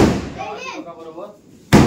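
A single sharp firecracker bang bursts loud and close at the very end of a Ganpati procession, after a stretch of people talking.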